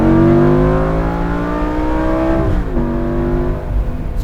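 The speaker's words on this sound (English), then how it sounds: "Just listen to the gap when the engine cuts out until it re-engages on the shift." A Lamborghini Gallardo Spyder engine drones loud and close, then briefly cuts out as the automatic gearbox downshifts and re-engages, resuming its steady roar.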